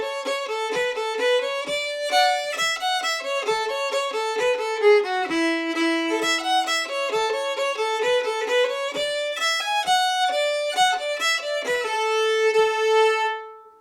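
Solo fiddle plays the old-time tune Little Sally Ann, a steady stream of bowed notes with a lively, even rhythm, close and clear with no talking, rising slightly in level toward the end.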